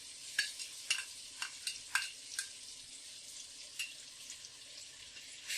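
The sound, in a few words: stirring garlic and ginger paste spices in a pan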